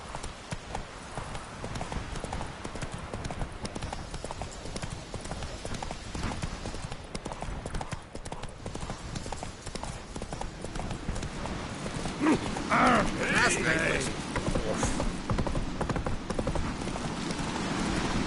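Steady clip-clop of a horse's hooves in a video game, the mount Roach trotting continuously and fairly close, with ambient game background and a brief swell of other sound midway.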